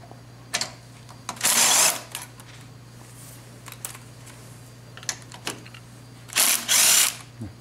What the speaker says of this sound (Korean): 요거 분해하는 거는 여기 나사 두 개 요거만 풀으시면은 분해가 됩니다.